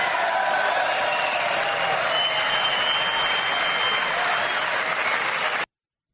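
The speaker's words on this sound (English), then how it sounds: "so you hear the applause there" Dense, sustained applause fills the chamber during a presidential address to Congress. It stays loud and even for over five seconds, then cuts off abruptly.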